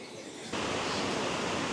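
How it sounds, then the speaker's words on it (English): Rhaeadr Ddu, the black waterfall, sends a steady broadband roar of cascading water that jumps suddenly louder after half a second and then holds constant and close, with no voices. "This is the first of the waterfalls."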